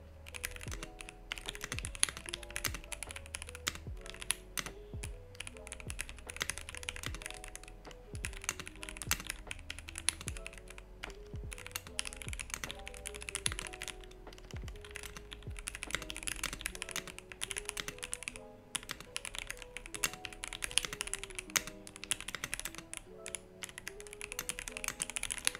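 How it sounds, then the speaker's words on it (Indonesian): Rapid, steady typing on a full-size Daxa M100X mechanical keyboard fitted with Gateron Yellow V2 switches, producing dense, continuous key clacks close up, with music playing underneath. "kita coba dengar dulu hasil suara dari switch ini"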